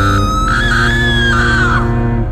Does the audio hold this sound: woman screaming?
yes